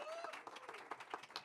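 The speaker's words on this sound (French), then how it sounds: "je vous demande d'accueillir sous un tonnerre d'applaudissements" A small audience claps to welcome guests at a deep-tech roundtable, a fairly faint, brief patter of hands with overlapping claps and no clear voices.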